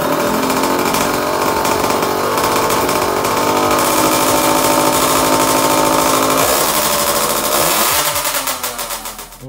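A 50cc moped engine runs loud and close, a raspy buzzing two-stroke drone held steady for several seconds with a loose exhaust, then revs and fades away at the end.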